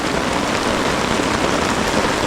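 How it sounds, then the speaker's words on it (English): Heavy rain pounds a tarp at a Boundary Waters wilderness campsite in a loud, dense, unbroken hiss that stays constant throughout, with no voices. "We're getting absolutely lit in rain here."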